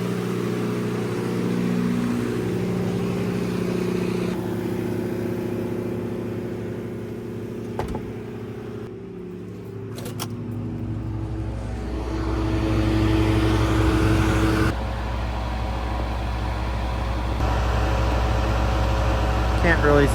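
A diesel backup generator runs loud and steady in an enclosed room during a high school power outage test, its low engine drone holding throughout and swelling slightly in the second half.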